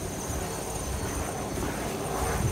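A heavy-lift helicopter ferrying building elements to a mountain construction site near Riffelboden drones steadily at moderate distance, a continuous engine and rotor hum with no talk over it.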